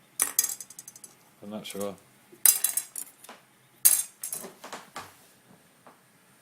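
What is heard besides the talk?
spoons being handled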